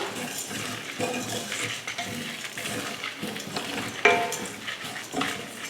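Red chillies, a piece of cinnamon, cardamom and cloves dry roast in a pan for egg curry, giving soft rustling, scraping stirs and light metallic clinks, close and quiet, with no voices.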